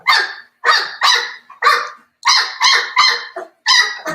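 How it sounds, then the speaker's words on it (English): Several puppies from a new litter bark in a steady series of sharp, close, loud yips and barks, about ten bursts with short pauses between them and no voices over the top. "you're hearing Ruby's puppies right now"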